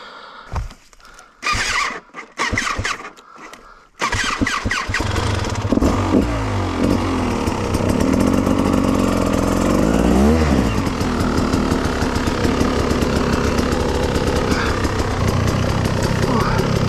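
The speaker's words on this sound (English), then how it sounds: "Engine's starting to get warm by the looks of it." Enduro motorcycle on a hillclimb track, its engine sputtering in short bursts before catching and settling into a loud, close, steady revving drone with rising and falling pitch, voices talking intermittently.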